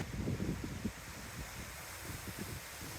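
Gusty wind buffets the microphone on a Mediterranean seafront in Cyprus, a low rumbling roar with rough surges, the choppy sea faint beneath.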